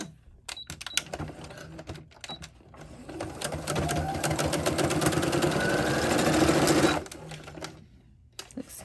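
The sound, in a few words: sewing machine stitching mesh fabric for a halter dress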